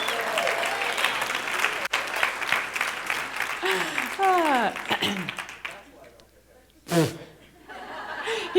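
A live audience at a talk on meditation and sex breaks into loud applause mixed with laughter and chuckles, the clapping fading after a few seconds before a brief final burst of laughter.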